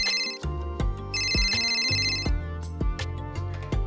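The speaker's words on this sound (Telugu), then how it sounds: "మా అమ్మ ఇప్పుడు ఫోన్ చేస్తుంది." A mobile phone rings with a bright melodic ringtone of repeating electronic chimes, loud and close, as a mother calls.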